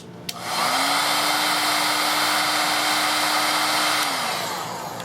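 A heat gun blows steadily and loudly close by for about four seconds while shrinking heat shrink tubing over paracord sleeving, its whine holding one pitch before winding down.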